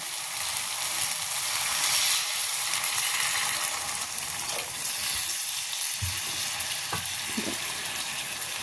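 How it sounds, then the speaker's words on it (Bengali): Water goes into frying ghugni masala for a pea curry and is stirred in, producing a broad hissing rush with a few low scrapes and knocks toward the end. "কষা হয়ে গেছে এবার এর মধ্যে দিয়ে দিচ্ছি জল"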